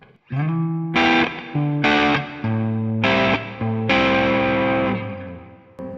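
An electric bass on its neck pickup plays a run of sustained, warm notes with distinct attacks and brief gaps, loud and upfront with no talking.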